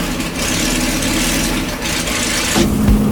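A car engine runs steadily at a low idle with a broad hiss over it, then shifts with a rising tone near the end as the car sets off, no one speaking.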